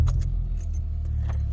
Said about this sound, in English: And I'm just going to start the car up.